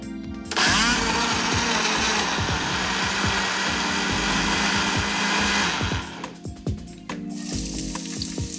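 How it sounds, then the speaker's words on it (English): A blender whirs loudly, pureeing tomatoes, chopped celery, cumin and peeled roasted capsicum with seeds for an Egyptian seafood sauce, a steady motor drone with churning thuds that cuts off, then briefly restarts. "A sauce in which the seafood cooks slowly starts in a blender with tomatoes, chopped celery, a good sprinkle of cumin, and peeled roasted capsicum"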